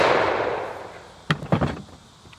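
Swedish m/96 Mauser rifle fired outdoors, a single sharp report followed by a second, fainter crack and some rattling, heard at a distance after a fading rush of background noise, with no voices.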